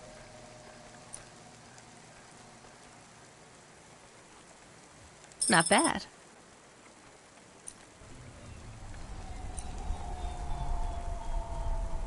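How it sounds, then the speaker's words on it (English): Steady rain falling in the rainy city of the video game Cloudpunk, a soft continuous hiss that thickens toward the end, with a brief voice speaking over it partway through. "Don't let all the rain get you down."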